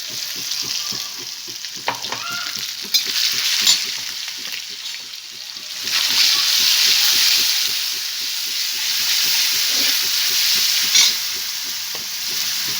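A ground green chili, garlic and coriander paste sizzles loudly in hot tempering oil with curry leaves and mustard seeds, a steady crackling hiss that swells as it is stirred, with no voices.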